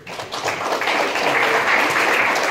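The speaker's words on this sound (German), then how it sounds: "Ja, einen großen Applaus für den Mann, der das BSL Kurzfilmfestival überhaupt erst möglich gemacht hat." An audience at the BSL short film festival applauds steadily, a dense wash of clapping that swells after a softer start and holds evenly to the end.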